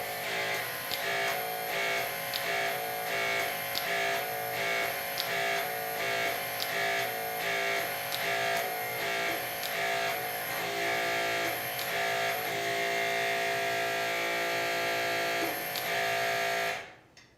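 A HYTORC MXT hydraulic torque wrench working on a nut gives a steady mechanical buzz with a rhythmic pulsing click roughly every second, continuous for about seventeen seconds before cutting off abruptly.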